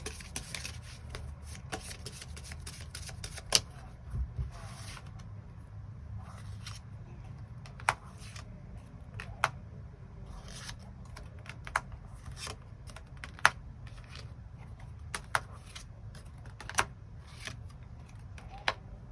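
Tarot cards being shuffled and drawn at a table, soft steady rustling and handling noise with scattered sharp clicks and taps, close by and with no voice over it.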